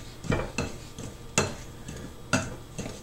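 Pastry cutter or fork scraping and clinking against a bowl as butter is cut into flour and sugar for maple scones, a handful of sharp, separate clacks spaced about half a second to a second apart, close and alone.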